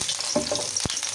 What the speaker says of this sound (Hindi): लहसुन को हल्का सा ब्राउन होने देते हैं।